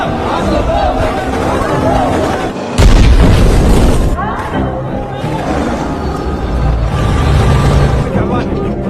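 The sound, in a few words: explosion and gunfire sound effects of soldiers attacking buildings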